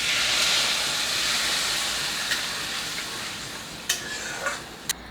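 A glass of hot water hits a hot cooking pan holding potatoes for an Assamese fish-head muri ghonto, giving a loud, steady steam hiss that slowly fades, with a few brief clinks near the end.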